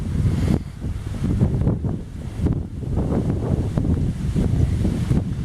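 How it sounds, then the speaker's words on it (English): Strong wind buffets the microphone on a coast, a loud, continuous roaring rumble that surges and eases in gusts, with no voices. "it's so windy that it may rain"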